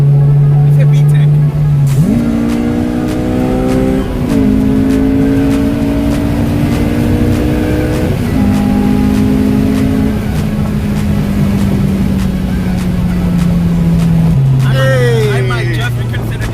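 A Honda S2000 engine revs hard as VTEC engages, its loud, rising tone stepping up through gears, with brief shifts and a final drop, while a voice talks over it.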